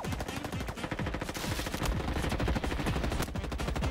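Dense automatic gunfire rattles continuously in a Call of Duty-style shooter on Roblox, loud, rapid shots overlapping into a sustained fusillade with no talk.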